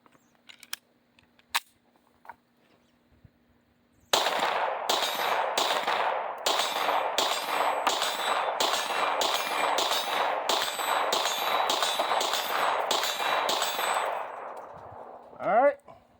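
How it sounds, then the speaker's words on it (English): Rapid string of about a dozen pistol shots from a Glock 26 fitted with a Zaffiri Precision RMR slide and an AIM Sports barrel, loud and evenly spaced after a few quiet handling clicks, with a brief clatter at the end. "All right, let's go ahead and load another mag."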